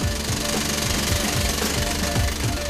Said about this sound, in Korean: 천공 작업은 늘 소음을 동반하기에 이들 중에는 난청이 생기는 경우도 적지 않다.